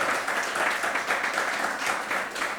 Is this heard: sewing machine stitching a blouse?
no